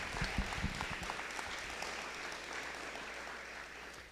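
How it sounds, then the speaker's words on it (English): Applause from the crowd at a school board meeting honoring retirees, a steady broadband patter that holds evenly for about four seconds, with a few louder claps near the start. "One more round of applause for our Thomas retirees."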